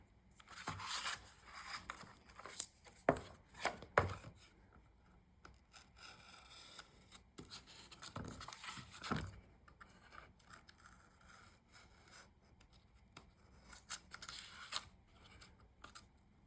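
Scissors snip and rasp in short, quiet bursts while trimming around a Dollar Tree Cricut blank, uneven cuts separated by pauses, with no talking.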